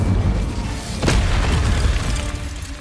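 Incendio fire spell in Hogwarts Legacy, one sharp bright blast that flares quickly and trails off into a rumbling low roar amid ongoing game ambience.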